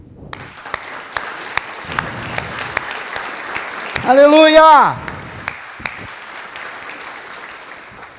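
A church congregation claps during an evangelical sermon, a steady spread of applause with sharp individual claps, while a preacher shouts an exclamation over it midway.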